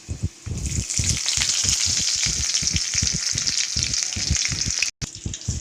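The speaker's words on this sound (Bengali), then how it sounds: "তেলের মধ্যে দিয়ে দেবো কেটে রাখা কুচানো পেঁয়াজ" Chopped onions frying in hot oil make a loud, continuous close-up sizzle with a regular rhythm of low thumping stir strokes, with a brief dropout near the end.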